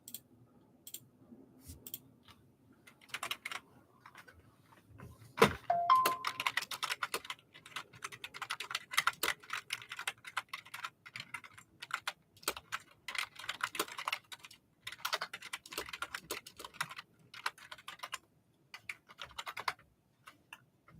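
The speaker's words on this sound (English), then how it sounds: "I typed without looking at the keyboard." Rapid, irregular clicking of fingers typing on a computer keyboard, close and crisp, in bursts that start sparse then run almost continuously, with short pauses between words and no talk.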